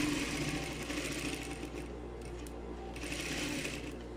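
Sewing machine stitching a tailored vest's front piece, fabric and lining together, running steadily and continuously close up with a brief pause midway.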